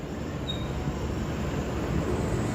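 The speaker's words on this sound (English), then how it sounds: "Possibly the most advanced subway line in Osaka." Osaka Metro Chuo Line subway train rolling along, a steady loud rumble from inside the car with a faint brief squeal and no talking.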